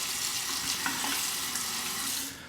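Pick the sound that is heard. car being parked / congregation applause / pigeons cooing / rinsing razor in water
rinsing razor in water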